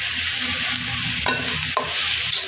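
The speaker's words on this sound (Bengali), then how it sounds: "এই যে দেখেন এখন এগুলা দিচ্ছি কাঁঠালের বিচির কুচিগুলা" Chopped jackfruit seed pieces tipped into a hot oiled pan and stirred, a close steady sizzle of frying with scraping spoon strokes and a couple of sharp clacks against the pan.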